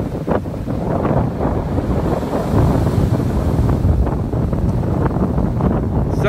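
Storm waves surge and wash along Town Neck Beach on Cape Cod Bay in Sandwich while strong wind buffets the microphone, a loud continuous roar with rolling swells of surf.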